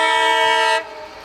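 A modified toy passenger train sounds a bright, steady tonal horn for most of the moment, cutting off abruptly near the end and leaving a faint low hum.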